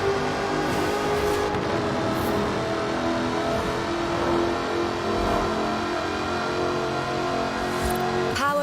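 A Jaguar with a 5-litre supercharged V8 and aluminium body drives steadily in Forza Horizon 4, its engine a sustained, fairly loud drone with a quick rising rev near the end.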